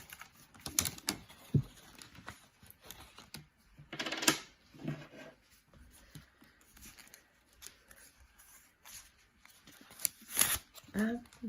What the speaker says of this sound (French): Je vais juste vider toutes mes enveloppes de mes petits défis.